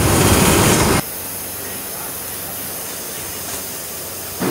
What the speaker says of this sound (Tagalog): Kung napansin nyo guys, sobrang ingay ng ano natin sa paligid. Gawa kasi ng compressor.